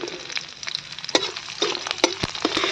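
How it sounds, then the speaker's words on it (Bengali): Black cumin and split green chillies sizzle and crackle in hot oil, with close, steady frying and sharp pops. "এই গরম তেলের মধ্যে ফোড়নের জন্য কালো জিরে দিচ্ছি আর দিচ্ছি চেরা লঙ্কা"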